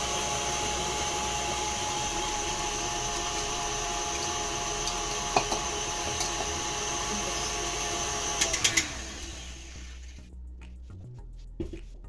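An electric mixer whips egg whites for a Jamaican Christmas fruit cake, a steady close whirring hum that runs continuously, with a few light clatters before the motor cuts off near the end.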